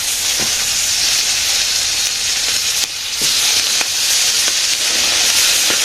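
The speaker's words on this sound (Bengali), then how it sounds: "রান্না শুরু করে দিছি তো আজকে মাছের তরকারি রান্না করবো" Fish curry frying in a pan in a village kitchen, a steady loud sizzle and hiss with occasional sharper crackles and stirring sounds.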